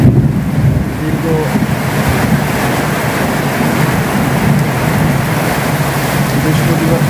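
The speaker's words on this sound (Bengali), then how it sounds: "এত বৃষ্টির তীব্রতা যে কি বলবো আপনাদের" Heavy rain pours without letup during a prolonged downpour, a loud, continuous broadband rush with a gusty, wind-buffeted edge, steady from start to finish.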